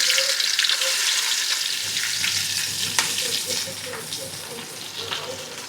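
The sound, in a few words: onions frying in pan with cinnamon for chicken gravy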